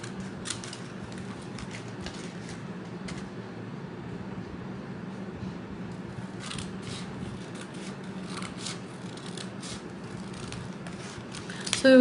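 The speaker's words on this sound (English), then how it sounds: "I'm just going to cut it up with scissors." Scissors snip through origami foil paper backed by a stiff base, a steady run of soft crisp cuts and rustles through the whole stretch, fairly quiet and close with no talk over it.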